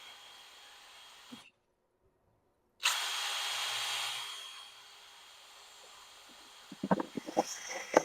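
A power drill whines steadily for about a second and a half while drilling notches through a metal enclosed conductor bar, stops, then clatters and knocks as parts are handled.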